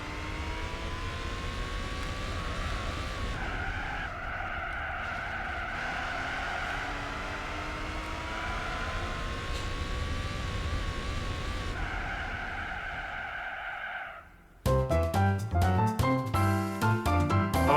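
A race car in Gran Turismo 4 brakes hard, its tires squealing and skidding in a long sustained screech over engine drone, before game music cuts in near the end.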